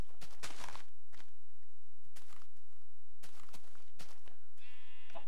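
Sheep in the video game Minecraft bleat, with a clear call near the end, amid repeated footstep-like thuds and hits spread across the clip.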